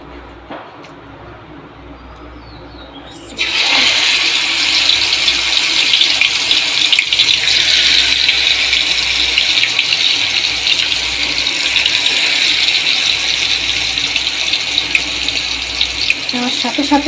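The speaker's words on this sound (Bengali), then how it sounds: "এই যে তেল বসাই দিলাম কড়াইয়াতে, মাংসগুলো ভেজে নেব।" Chicken pieces drop into hot oil in a wok and a bright, steady sizzle bursts in after a few quiet seconds, then holds strong and continuous to the end.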